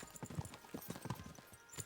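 Horse hooves clip-clop at a steady trotting rhythm, close and moderately loud, as horses ride along a road in Kingdom Come Deliverance II.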